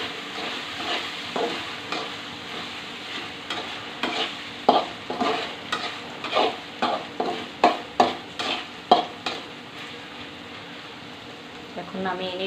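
Okra frying in a pan with green chili and coriander while a spoon stirs it in a steady run of scraping strokes over a soft, constant sizzle, with a voice speaking faintly now and then.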